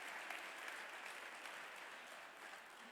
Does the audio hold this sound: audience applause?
yes